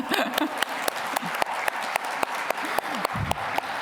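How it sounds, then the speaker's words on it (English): Audience applause at an Indigenous entrepreneurship forum, a steady patter of many hands with sharper individual claps standing out, with a few voices briefly audible underneath. "let's clap"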